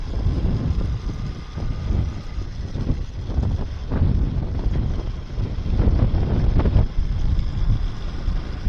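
Strong wind roars and buffets the microphone throughout a vehicle ride, a loud, continuous rushing with gusty swells and no speech.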